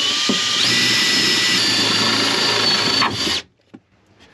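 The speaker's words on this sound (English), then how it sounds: "One HSS drill bit, reasonably sharp. Let's give it a go." Power drill with a reasonably sharp HSS bit boring a hole through a van's metal panel, a loud steady high whine for about three seconds that cuts off abruptly, followed by a faint clunk.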